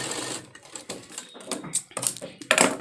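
A sewing machine stitches darts on a blouse in short, uneven bursts of clattering needle action separated by brief pauses, close and moderately loud with no talking.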